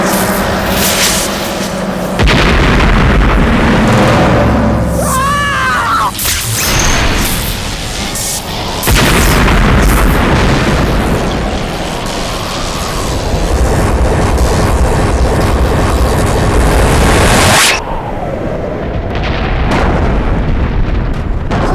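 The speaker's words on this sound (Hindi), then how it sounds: "धमाका हुआ, धमाका।" Loud explosion effect from the Baalveer fantasy TV show: heavy booming blasts with sweeping whooshes rumble on for most of the span, then drop away into a quieter fading tail.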